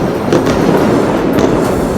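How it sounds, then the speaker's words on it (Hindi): Explosions from Israeli missiles and rockets striking buildings in Gaza form a dense, continuous roar of loud blasts and crackling bursts, with no gaps of quiet. "इजराइल की मिसाइलें और रॉकेट लगातार गाजा की इमारतों पर गिरते रहे और धमाके होते रहे"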